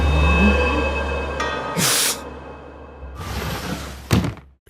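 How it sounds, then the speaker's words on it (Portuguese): A door shuts in an anime scene with a soft thunk and a slide, followed by more sliding and a sharp closing thud, all over a steady background hum. "fecha a porta do mesmo jeito que abriu"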